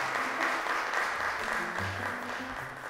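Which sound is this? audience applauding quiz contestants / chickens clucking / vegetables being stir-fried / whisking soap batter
audience applauding quiz contestants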